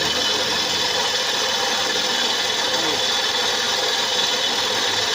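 Engine of a Mitsubishi Lancer running in a repair shop after a long mechanical fault, a steady, loud, broadband hum and whir that holds unchanged throughout, with no breaks.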